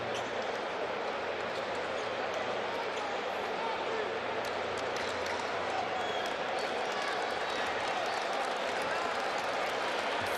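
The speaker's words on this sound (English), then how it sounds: "the crowd are starting to make some noise." A steady, dense roar from an arena crowd before tip-off at a Dominican Republic versus Canada FIBA AmeriCup qualifier basketball game, continuous and fairly loud, with speech mixed in.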